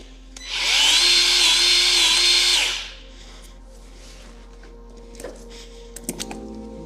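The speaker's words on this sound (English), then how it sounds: "Now we're going to install this right away on my Milwaukee M12 grease gun." A Milwaukee M12 cordless grease gun fitted with a quick-connect coupler runs in one loud, steady motor whine of about two seconds, followed by quieter clicks and handling taps.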